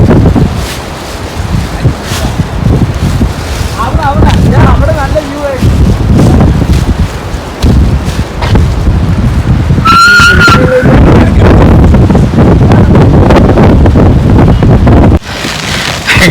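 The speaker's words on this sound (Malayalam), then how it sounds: "നല്ല കാറ്റുണ്ട് കേട്ടോ, കാറ്റ്, തണുപ്പ്, മഴ, അടിപൊളി ക്ലൈമറ്റ്, ചെറിയൊരു ചാറ്റൽ മഴയാണ് കേട്ടോ" Strong wind buffets the microphone in a steady, roaring rush through most of the stretch during light drizzling rain in Munnar. Voices speak intermittently underneath.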